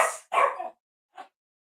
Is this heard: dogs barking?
yes